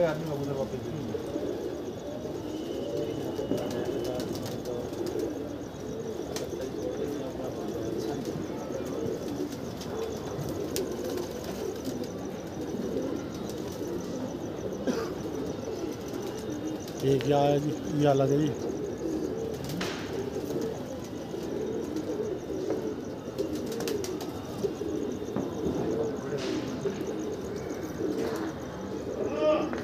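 A flock of practice pigeons kept by a fancier, cooing and wingbeats heard throughout under steady outdoor noise, with someone talking at intervals.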